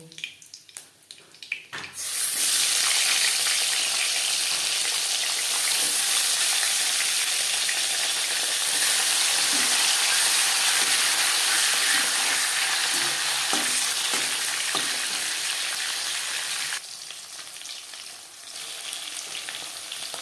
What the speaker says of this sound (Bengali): তিনবারে আমি মাছ ভেজে নেব